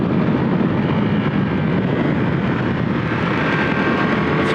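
A Triumph Tiger 1200 GT Pro motorcycle engine drones steadily as the throttle comes back on after a bend, a continuous loud roar mixed with wind rush.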